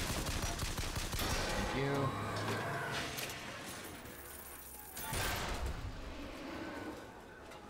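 Pistol shots from Bioshock Infinite, fired with the starting pistol, crack in quick bursts with one loud cluster near the end, mixed with game noise while someone talks over them.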